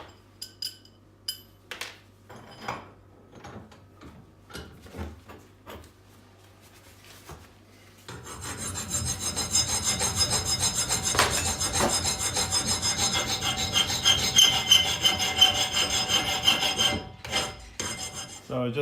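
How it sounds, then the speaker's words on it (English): Hand filing and rubbing on a fabricated metal part for an offset smoker's firebox door: scattered scrapes and taps at first, then a sustained, close rasping stroke pattern with no talking. "I'll just polish it a bit."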